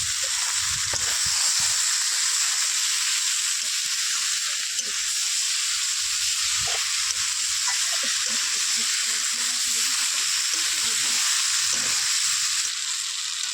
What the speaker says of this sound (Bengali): এই সবজিগুলো এবার দিয়ে ভালো করে মশলার সঙ্গে কষিয়ে নেব